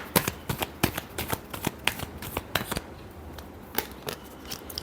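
Tarot cards are shuffled close by in a rapid, uneven series of crisp riffling snaps and flicks that continue for several seconds, fairly quiet and with no talking.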